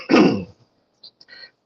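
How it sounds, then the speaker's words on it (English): A short throat-clearing cough from a panelist on a morning discussion panel, one gruff burst followed by a couple of faint small catches, close and alone. "just have a little cough"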